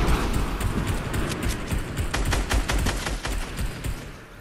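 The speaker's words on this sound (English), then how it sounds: "Someone's just trying to shoot me from the right." Gunshots fired at the player in an online shooter match, a rapid, close, crackling volley of shots over a constant noisy game backdrop, with hoof-like thumping underneath and no talking.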